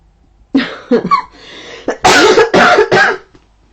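A person coughs several times in quick bursts, starting with short hacks then a stronger run of three loud coughs close to the microphone.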